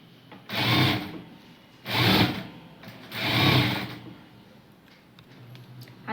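A sewing machine stitches a baby frock in three distinct bursts of whirring, each lasting about a second, with brief pauses between them and a quieter tail at the end, no voices present.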